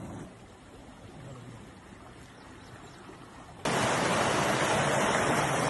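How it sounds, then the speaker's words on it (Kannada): Kaveri river water at KRS dam, a soft broadband rush of flowing water that jumps abruptly louder and fuller partway through, steady with no talk. "ನೋಡಿ, KRS ವಾಟರ್, ನಮ್ಮ ಕಾವೇರಿ ನೀರು ನೋಡಿ."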